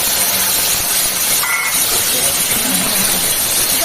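Sliced ridge gourd and potato hit a hot pan and sizzle as a loud, steady broadband hiss that stays even throughout, with a voice faintly underneath.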